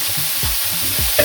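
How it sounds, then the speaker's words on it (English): Saltfish frying and sautéing in oil in a pan, a soft steady sizzle with a few stirring scrapes and a brief knock at the end. "It's kind of a saute, frying. See, the saltfish is breaking up."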